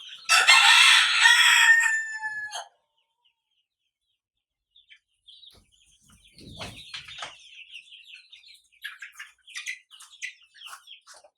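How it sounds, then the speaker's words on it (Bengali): A chicken suffering from swollen-eye disease gives one loud, close crow lasting over two seconds, followed by silence and then scattered faint clucks, chirps and handling rustles. "এই যে দেখুন আমি মুরগিটা হাতে নিচ্ছি।"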